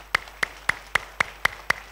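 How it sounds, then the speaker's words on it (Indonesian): Evenly spaced claps from a Sunday church service congregation, eight crisp strikes in a steady rhythm, fairly close and moderately loud over a quiet room. "Mari kita beri tepuk tangan dong buat satu sama lain."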